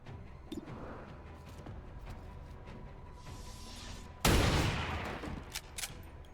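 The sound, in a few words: gunfire in video game XCOM 2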